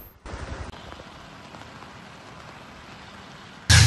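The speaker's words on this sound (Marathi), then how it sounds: "पावसाची रिमझिम सुरूच आहे" Steady monsoon drizzle falls in the Konkan region around Raigad district, a continuous soft patter that holds evenly for several seconds before a sudden loud burst of noise at the very end.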